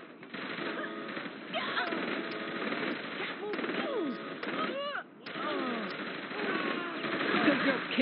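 Gunfire from shooting enemies in Saints Row The Third, a dense run of game gunshots and bursts mixed with engine noise and a talking voice, steady and loud for most of the stretch.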